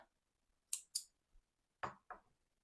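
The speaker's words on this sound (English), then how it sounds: "Get some snips or scissors, cut the end," Two quick, crisp scissor snips cutting yarn in a quiet room, followed by a couple of softer clicks and handling noises.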